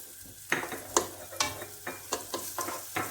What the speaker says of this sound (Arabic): نضيفو لها البصله ونخليوها تشحر